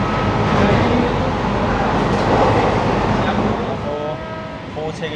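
AC local train running from Sealdah to Krishnanagar, a steady rumbling interior roar of the moving carriage, loud and continuous, with brief tonal squeals near the end and faint talk in the background.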